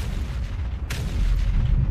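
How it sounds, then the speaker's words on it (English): Artillery shells going off in the Factorio video game, with a low continuous rumble and one brief boom in the middle against a loud background. "I'd much prefer to hear the artillery going off in the background."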